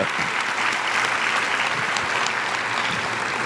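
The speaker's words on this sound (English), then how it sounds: "Please join me applauding this great, great Vision 8 team." Steady, dense applause from an audience honouring a Vision-Aid team at a keynote event, loud and continuous with no talk over it.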